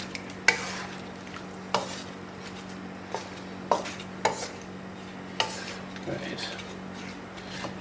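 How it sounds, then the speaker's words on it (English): Potato fries being stirred in hot frying oil, with scattered scraping and clinking strikes of a utensil against the pot over a steady low sizzle and hum, close and moderately quiet. "I'm going to stir these in the oil quickly before I add the new oil."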